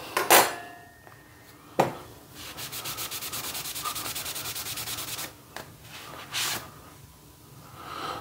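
A fork scrapes across a vinyl floor plank with a 12 mil wear layer, giving a few sharp clicks followed by a long rapid rasping scratch and a final short scrape, close up with no talking.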